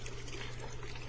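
Water flows steadily from a JZK 12V brushless submersible pump running out of the water, a faint continuous trickle over a low pump hum.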